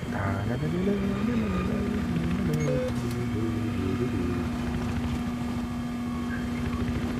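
Helicopter engine in the video game Battlefield 3, a steady droning hum with shifting tones running throughout, loud and continuous, with a few brief sharp game effects on top.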